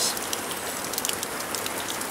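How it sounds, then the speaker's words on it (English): Rain falling outside a house with a garden, a steady close hiss of drops on surfaces with faint patters, continuous and alone without voices. "So I'm hoping that the rain stops tonight."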